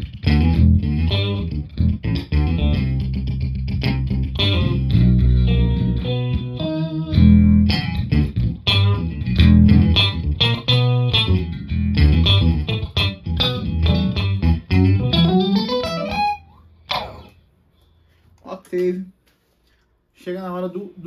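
Electric guitar played through the octave effect of a Line 6 M5 pedal, on its own without drive, loud and continuous with dense chorded notes, then a few isolated notes trailing off near the end.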